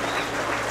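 A stadium crowd gives a steady wall of applause at the farewell of Slovak footballer Miroslav Karhan, the clapping dense and continuous throughout.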